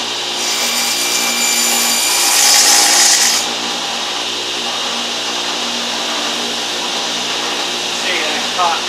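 A power saw with its blade set to a 3/8 inch depth cuts wood while building a wall mount for a clothes dryer, producing a loud, steady whining rasp up close that swells briefly near the middle.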